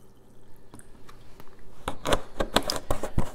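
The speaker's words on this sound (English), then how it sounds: "Then I'm just gonna fill it the rest of the way up over top of the pickles with vinegar." Vinegar is poured into a jar of banana pepper pickles for a refrigerator pickle: a quiet start, then a run of close, irregular splashing and trickling bursts.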